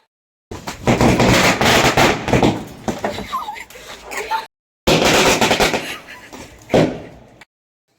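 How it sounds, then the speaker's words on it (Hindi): Firecrackers burst on a rooftop during a Bhai Dooj celebration, with dense, rapid, loud crackling volleys in two long runs separated by a brief silence. "तो फ्रेंड्स कीर्तन होने के बाद हम ऊपर चले गए पटाखे फोड़ने के लिए थोड़ी देर।"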